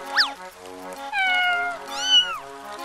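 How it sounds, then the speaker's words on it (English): A cartoon cat meows three times, with clear, high, drawn-out calls. The first is short and rising and the last two are longer, close and distinct over faint background tones. "Where is Cat meowing come from?"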